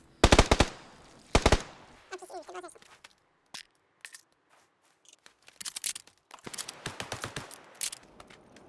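Bursts of automatic rifle fire in PUBG, two sharp loud volleys at the start followed by scattered single shots and a longer rattling sequence of rapid shots later, with quieter mechanical clicks and scrapes between.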